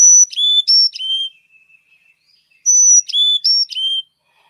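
Two bursts of clear, high whistled Carolina chickadee notes, each a quick run of about four bright tones, separated by a short quiet gap.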